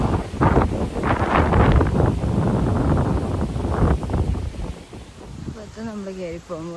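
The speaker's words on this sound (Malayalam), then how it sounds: "നല്ല കാറ്റ്, നല്ല രസമുണ്ട്." Wind blows at a hilltop viewpoint in Edavanna, Malappuram, Kerala, loud gusts rumbling against the microphone for several seconds, then a voice speaks as the blowing fades.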